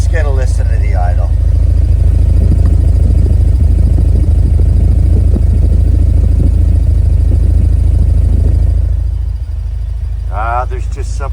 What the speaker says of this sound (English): Aftermarket muffler here. Let's get a listen to the idle.